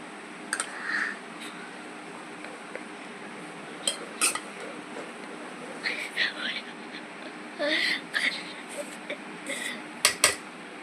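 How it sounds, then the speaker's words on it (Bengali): Cooked rice is served onto plates, with scattered light clinks and scrapes of dishes and utensils at close range, irregular and brief, over a faint room background with soft voices. "চলো তাহলে ভাতটা বেড়ে নিই"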